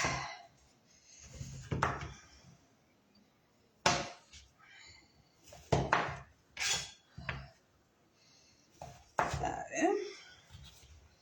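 Knife chopping sweet potato into wedges on a board, sharp clustered chops and knocks coming in short bursts close by, with quiet gaps between and a person talking in the background.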